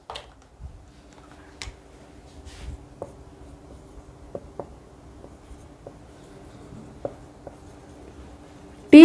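Marker or chalk writing on a board during a Hindi lecture about Nagaland and Article 371(A), heard as faint, sparse taps and short strokes against a quiet room hum, with no talking.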